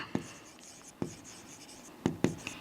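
Chalk or marker strokes on a board during a physics lesson on pressure in fluids, a handful of short sharp taps and scratches spaced irregularly, close and fairly quiet with light background noise.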